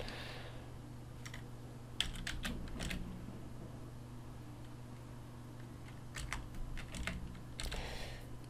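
Keys on a computer keyboard tap in short scattered bursts during a computer practical class, quiet and fairly close over a steady low hum.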